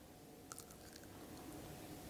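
Someone bites into and chews a fresh azarole fruit at close range, with a few crisp crunches early on, then quiet, muffled chewing.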